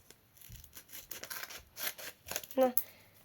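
Scissors snipping open a paper toy packet, giving short crisp cuts and rustling paper close by, with a brief squeak near the end.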